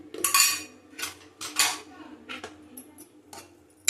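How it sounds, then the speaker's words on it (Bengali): A pressure cooker is lifted and handled in a kitchen, producing a handful of sharp metallic clinks and clanks at irregular intervals, close and fairly quiet, with short pauses between knocks. "দেখো, প্রেসার কুকারটা তুলে"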